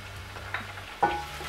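Garlic goes into a pan of onions already frying in oil, giving a soft low sizzle with a couple of brief stirring scrapes and a sharper hiss near the end, close and quiet.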